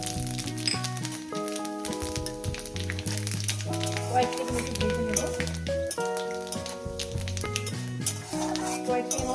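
Panch phoron spices and dried red chillies crackle and sizzle in a hot pan with occasional scraping from a spoon, partly masked by louder background music.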